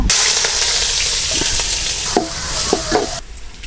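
Oil is poured into a hot pan, setting off a loud, dense sizzle with sharp pops and crackles. The noise cuts off abruptly near the end.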